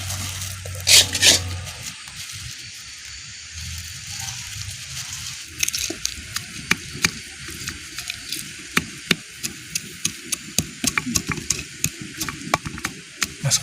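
Onions added to a hot pan and stirred while cooking for grilled tilapia with spiced sauce, a soft steady sizzle with many sharp scraping clicks of a spatula, growing busier in the second half.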